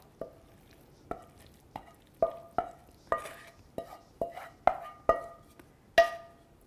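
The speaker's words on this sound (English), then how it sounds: "Transfer them onto a nice serving bowl" Indian-style anda bhurji scrambled egg being spooned into a serving bowl, about a dozen quiet scraping and tapping clinks of a utensil against the bowl at an uneven pace, close up, no talk.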